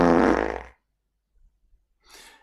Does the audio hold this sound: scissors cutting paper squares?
no